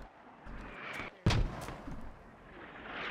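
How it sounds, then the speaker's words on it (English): Mortar fire in a military video game: a single sharp, heavy boom with a short rumbling tail stands out against a faint background of distant battle noise. "Mortars out, just constantly harassing, but not doing it too much."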